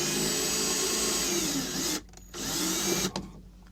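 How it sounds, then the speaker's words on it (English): A power drill bores into material and drives a screw, a loud whining motor running continuously for about two seconds, stopping briefly, then restarting before cutting out near the end. "So I'm just going to go ahead and drill it and put another screw in."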